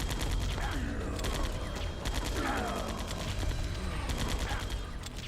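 Tranquilizer gun shots in Metal Gear Solid: The Twin Snakes, a quick series of sharp mechanical pops and clicks over dense game background noise and music.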